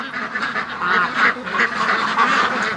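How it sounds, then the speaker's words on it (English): A wild duck quacks repeatedly close by, in loud, nasal honking calls that run together over a few seconds at a duck pen, with no one talking. "Wild duck."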